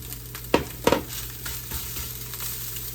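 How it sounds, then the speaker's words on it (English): Diced peas and carrots tipped into a hot frying pan for fried rice give two quick bursts of sizzle and clatter, then a low steady frying hiss, close with no talk. "Okay, now I'm going to put my vegetables in."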